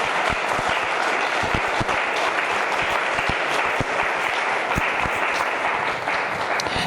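A church congregation applauding loudly and steadily for the Lord during a sermon, a dense, continuous sound of many hands clapping with no speech over it.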